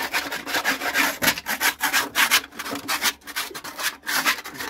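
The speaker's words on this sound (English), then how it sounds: "then you use your scraper. You make sure you scrape everything out." A scraper rasping steadily along the floor of a grasscutter cage, with repeated loud, close, rough strokes in an even rhythm and no talking.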